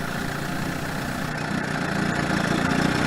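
An old 1962 Johnson 18 hp outboard motor idles steadily with a low, rumbling drone, close by and continuous, with no voices.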